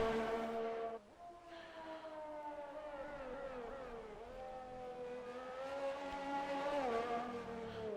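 Formula 1 race car engine in the F1 2021 game at Imola, a high whining engine note rising and falling through gear shifts and revs, steady and prominent, with a brief dip near the start.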